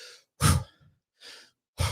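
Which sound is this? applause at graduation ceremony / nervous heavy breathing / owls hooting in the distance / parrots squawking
nervous heavy breathing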